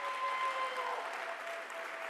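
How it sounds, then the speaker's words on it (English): Soft, distant applause from a school district staff audience on opening day, a steady patter of clapping with a faint tonal hum running underneath. "They deserve a round of applause."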